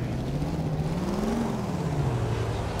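Car driving in a video game, a continuous engine drone whose pitch rises and then falls again over a few seconds, steady and fairly close, with no talk.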